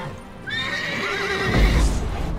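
Horse whinnying in The Witcher 3, a loud, clear neigh with rising and wavering pitch that runs for about a second, followed by a low snort and a thud of movement over steady game ambience.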